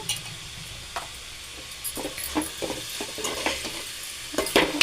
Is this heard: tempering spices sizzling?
yes